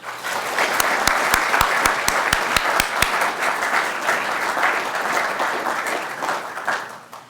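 An audience of a 2013 lecture breaks into steady, dense applause welcoming Dr. Angus Deaton, a few sharp claps standing out early before the clapping tapers off near the end.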